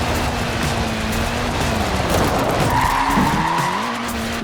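Tires of a front-wheel-drive, short-wheelbase Mini skid and squeal as it slides in the racing game Forza Horizon 4. A loud, continuous screech rides over steady engine drone for several seconds.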